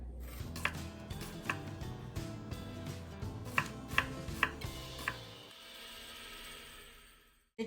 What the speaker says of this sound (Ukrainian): Тепер будемо нарізати цибульку. Отак, півкулечками.